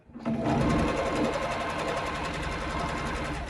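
A sewing machine stitches the hem of a stretch skirt, a fast even motor whir with rapid needle chatter that starts abruptly and runs steadily, close by.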